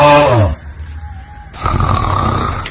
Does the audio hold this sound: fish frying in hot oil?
no